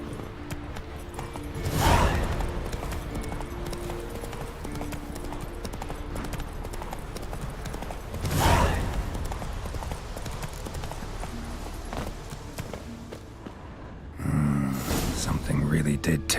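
Roach, the witcher's horse in The Witcher game, trots in a steady, moderately loud clip-clop of hooves, with a couple of whooshing swells and short stretches of game voices over it.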